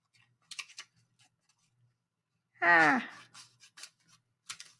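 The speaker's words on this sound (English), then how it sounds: "I'm going to take this same note card, okay? It's still a 15 square inch note card, and I'm going to cut it from corner to corner" Scissors cutting a 15-square-inch paper note card from corner to corner make a few short, quiet snips and crisp clicks, with a brief voiced sound from a person in between.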